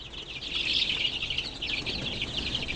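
Egyptian Fayoumi chicks chirp on a poultry farm, a busy cluster of high, thin peeps overlapping in quick succession, close and steady across the short moment.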